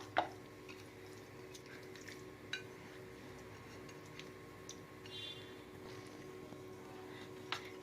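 Quiet dripping and trickling of water draining from soaked rice, with a few faint clinks of a metal vessel, intermittent and close by.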